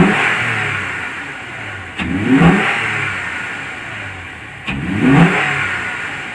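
A Toyota Tacoma TRD Off-Road engine fitted with a K&N cold air intake, idling close by and then revving twice in quick, loud blips about three seconds apart.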